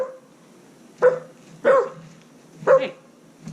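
A dog barks three times at a steady distance, each bark short and sharp, separated by quiet pauses.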